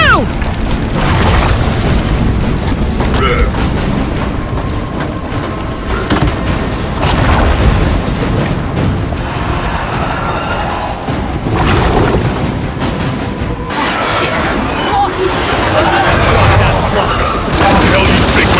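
Explosions and gunfire rumble through a Gears 5 firefight, continuous heavy booms and bursts filling the scene loudly with shouted dialogue layered over the chaos.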